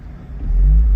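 A red 1993 Jaguar XJS with a 5-speed manual, top down, gives a subtle but purposeful exhaust note that rises from a low rumble into a louder, steady drone as it pulls through a shift.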